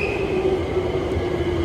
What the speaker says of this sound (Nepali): मेरो ट्रेन पनि आइपुग्यो